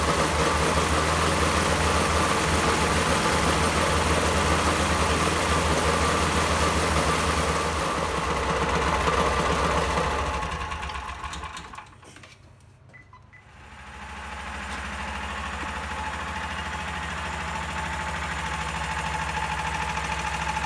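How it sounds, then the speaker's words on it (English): A 420 cc Predator gasoline engine with newly installed fuel injection idles steadily, running rich, a rough, buzzing drone that dips briefly midway before settling back to a constant run. "the engine's running really rich"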